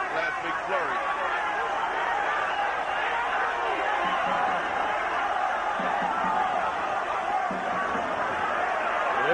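A large boxing arena crowd in Quito roars steadily for Ecuadorian fighter Segundo Mercado, a dense continuous din of cheering and shouting beneath a commentator's voice.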